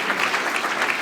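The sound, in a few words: applause for Fadwa at a banquet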